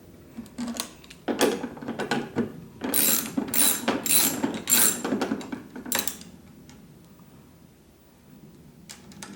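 Nuts being tightened onto a Moonsmc headlight bracket kit on a Harley FXLRST motorcycle, with a run of quick metallic ratcheting bursts close by, loud in clusters and then tapering off into quiet.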